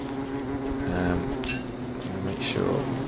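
Bees buzz in the Don't Starve video game, a steady drone of several insects running continuously through the clip, heard beneath brief talk.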